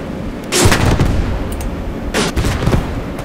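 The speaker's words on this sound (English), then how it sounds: "Dude, that's like an MG in that building" Machine gun fire in a D-Day Normandy battle in the game Post Scriptum comes in two loud, close bursts of rapid shots, separated by a short lull with a rumbling battlefield background.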